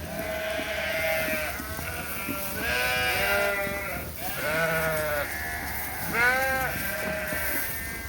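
Replacement ewe lambs bleat in a pen, several overlapping calls rising and falling at moderate distance over a low background hiss.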